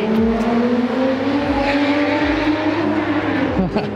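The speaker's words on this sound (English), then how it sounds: "Datang dah Mustang" A Ford Mustang drives past at the Daikoku parking area car meet in Tokyo, its engine a loud, steady, droning rumble that holds close throughout with a low, throaty pulse.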